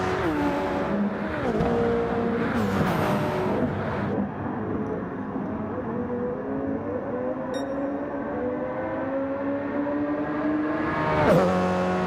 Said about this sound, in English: As we get some flybys here, watching the cars fly through here.